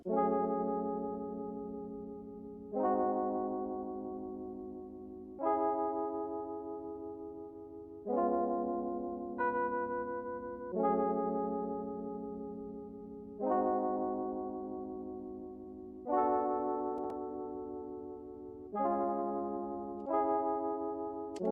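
Single sustained keyboard chords sound one after another, each struck softly and fading slowly, spaced a couple of seconds apart with no other sounds.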